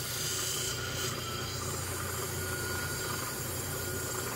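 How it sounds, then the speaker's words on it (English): A black opal having its potch cut off on a lapidary saw, a steady close grinding and rasping drone that continues evenly throughout. "I told you I would cut the potch off, and I almost got the shot in frame this time."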